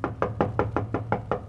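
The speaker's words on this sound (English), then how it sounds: "awakened by a knocking on his door." Knocking on a bedroom door as a radio comedy sound effect from 1945, eight steady, evenly spaced raps over a low hum, heard alone with no talking.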